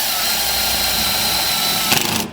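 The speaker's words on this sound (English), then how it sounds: "I'm going to take a self-tapping screw here" Cordless drill whining steadily at high speed while driving a self-tapping screw into a trailer light, close and loud, ending with a short burst of rattling as the screw bites and the drill winds down.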